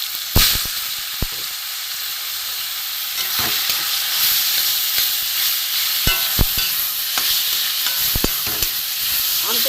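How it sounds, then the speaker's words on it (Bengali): Grated green mango fries with five-spice (panch phoron) and dried red chilli in a hot pan, giving a steady loud sizzle with scattered sharp crackles and spatula scrapes throughout, no voice. "আমটা একটু ভেজে নেবো"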